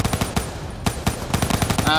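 An enemy machine gunner firing in the Call of Duty Black Ops 3 campaign, close loud bursts of rapid gunshots with brief gaps between volleys.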